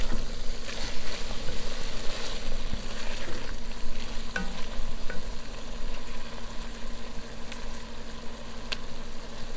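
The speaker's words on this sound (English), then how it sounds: "I'm just gonna take my spoon, the back of my spoon, and mash them" Back of a spoon mashing ingredients in a pot of homemade spaghetti sauce with meat, the heat turned off: steady close scraping and soft stirring with a faint lingering sizzle, no talk.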